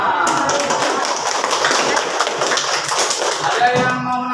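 A classroom of students applauds after a presentation, a dense continuous patter of many hands that fades slightly as a voice starts talking at the end.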